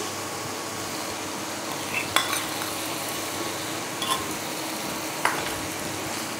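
Cashew paste is stirred into masala frying in a pan, making a steady low sizzle. A few sharp clinks of the spoon against the pot come at irregular moments.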